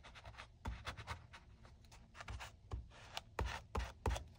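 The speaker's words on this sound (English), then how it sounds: "now might as well pull out old burnishing tool" A burnishing tool is rubbed across a junk journal cover. Soft, close scraping strokes repeat in an uneven back-and-forth rhythm, faint and alone.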